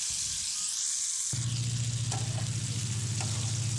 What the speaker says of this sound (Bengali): আর এখন দিয়ে দেব নুন হলুদ মাখানো চিংড়ি। তো এগুলো দিয়ে আমি ভেজে নেব